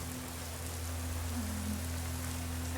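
Heavy rain in Skyrim, a fantasy video game, pours as a steady, dense hiss with a low droning bed underneath, unbroken and fairly loud throughout.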